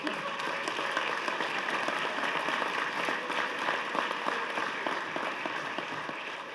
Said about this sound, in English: She always gets better applause than I do.